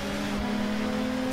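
A BMW 320i race car engine in a racing video game, holding a steady droning tone at constant revs, close and continuous with no talk.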